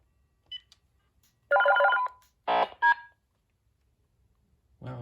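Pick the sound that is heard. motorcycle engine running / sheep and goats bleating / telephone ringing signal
telephone ringing signal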